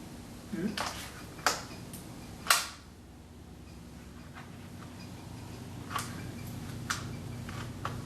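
The safety and trigger mechanism of an Italian Carcano Model 1941 rifle in 6.5 Carcano gives several sharp, close metallic clicks and snaps spaced a second or so apart over a faint steady background hum.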